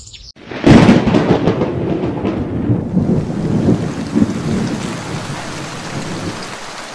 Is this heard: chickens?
no